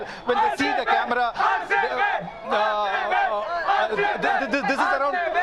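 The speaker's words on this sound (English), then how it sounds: "The crowd's chanting over there." Excited crowd at an RCB victory celebration near a Bengaluru stadium chants and shouts in loud, overlapping waves of voices, close and continuous with rhythmic rises and falls.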